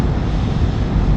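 Steady, loud wind rush buffeting the microphone while riding a motorcycle at about 70 mph on the highway, a constant broadband roar with no pauses and no talk.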